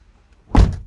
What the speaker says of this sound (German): Dann die Türe zu.